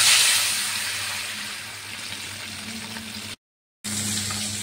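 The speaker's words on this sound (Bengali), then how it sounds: "এবার আমরা এক এক করে মাছগুলো দিয়ে দেবো।" Rui fish slides into hot oil in a kadai and sizzles loudly with a steady, close frying hiss, which drops out briefly before resuming.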